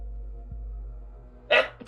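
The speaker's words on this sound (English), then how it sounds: "At least I'm not coughing this time, I'm just sneezing instead." A person sneezes once, a short loud burst near the end after a quiet stretch of low room hum, with a small second catch right at the close.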